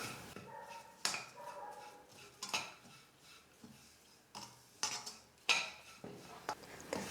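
Rava (semolina) roasting in a pan over a medium flame while being stirred gives intermittent scraping and clinks of a spoon against the pan, spaced out in quiet bursts with low background noise between.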